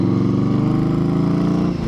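A Victory Octane motorcycle with an RPW full exhaust idles close and loud, a deep, throbbing, steady rumble with a rhythmic pulse that dips slightly just before the end.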